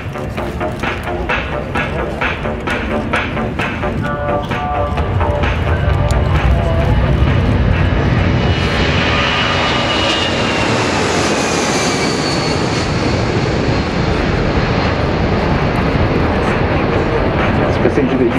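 A fixed-wing aircraft at the Avalon Airshow spools up its engines for takeoff, a loud, broad roar that swells and holds, with a rising whine near the middle as the throttle increases.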